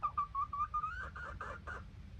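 A hand-raised pet hen gives a series of soft, rising whistled peeps followed by a few breathy chirps, close by and quiet over a low background rumble.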